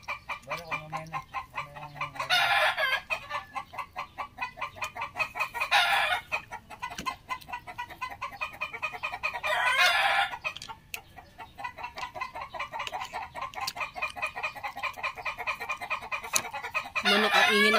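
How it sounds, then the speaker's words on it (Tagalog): Chickens cluck steadily around a farmyard while a rooster crows several times in long bursts, fairly close and clear, with no talking over them. "Manok, ang ingin ng manok."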